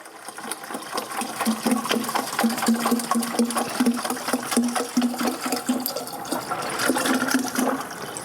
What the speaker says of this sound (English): I'm just going to pour the 1 gallon. This is, again, straight out of the tap.